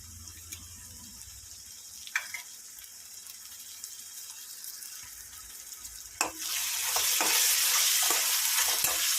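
Ginger garlic paste fries in a pan during preparation of a fish curry, opening with quiet scraping and clinks, then a sudden loud hiss as the paste hits the hot oil, settling into a steady sizzle.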